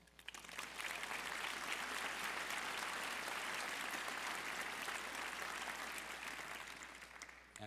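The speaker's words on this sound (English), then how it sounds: "the dedication of our prestigious and productive faculty who deserve a round of applause" Graduation ceremony audience at a Drexel law school commencement breaking into sustained, dense applause that swells, holds steady for several seconds and then tapers off, heard from within a large hall.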